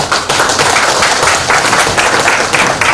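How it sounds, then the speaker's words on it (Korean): Loud, close applause fills a Democratic Party expanded leaders' meeting, as many hands clap with uneven thumps for about three seconds. "박수로 환영해 주십시오."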